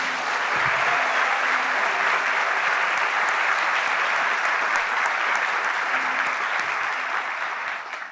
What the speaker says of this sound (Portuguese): Eu queria pedir a todos uma salva de palmas para esse casal lindo